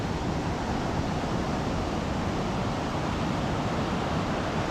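Ocean surf rolls in steadily at a beach in Tijuana near the border wall where it runs into the sea, a continuous broadband wash of breaking waves with wind, no voices.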